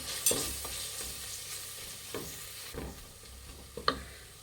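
Chilli powder and spice powders stirred into drumstick biryani masala in a hot pan: soft scraping stirs over a low sizzle, with a few sharper clicks of the spoon against the pan.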